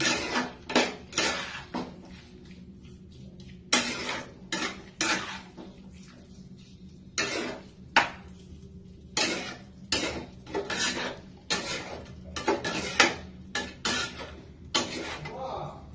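A spoon scrapes and knocks against a metal pan while egg and fig curry is stirred, sharp clanks and rasps coming in irregular bursts close by, with quiet hiss between them.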